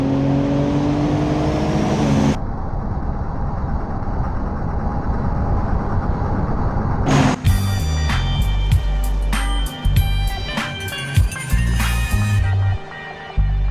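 A Ford Explorer overtaking a truck in the driving game BeamNG.drive: a loud, steady engine drone cuts off abruptly, then louder clattering bursts mixed with tonal engine sounds.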